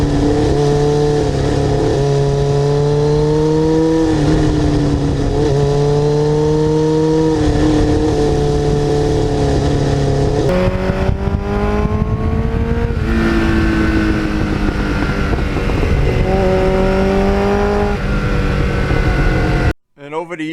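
A restored 1989 Kawasaki GPX750R motorcycle with a Muzzy muffler is revved repeatedly, its pitch swelling and falling in close, loud bursts before cutting off abruptly at the end.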